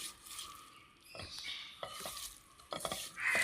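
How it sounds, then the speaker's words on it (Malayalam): A spoon stirs and scrapes through a prawn masala mixture with chilli powder, garam masala and cumin powder in a pan, making a few distinct scraping strokes and a light sizzle, fairly quiet and with no talking. "ഇതെല്ലാം ചേർത്ത് നന്നായി മിക്സ് ചെയ്യാം."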